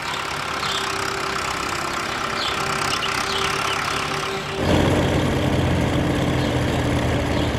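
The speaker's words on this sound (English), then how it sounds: "Some farmers nowadays play passionate cinema music to overpower the noise of the tractor." A tractor engine runs at a steady idle, a moderate mechanical drone that suddenly grows louder and rougher midway, with no talking.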